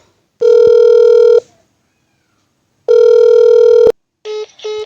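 A telephone rings back on an unanswered call in two long, loud electronic tones separated by silence, followed by a shorter broken beeping.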